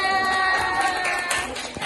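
Audience cheering and applause at a school academic supervision coaching session, a steady wash of crowd noise with shouts and whoops mixed over tonal background sounds.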